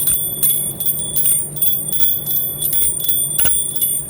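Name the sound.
small puja bell being rung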